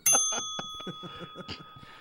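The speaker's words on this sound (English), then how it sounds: "I don't like that bell. That bell's too abrupt." A single bright bell ding strikes abruptly at the start and rings on with a sustained metallic tone beneath a person talking close by.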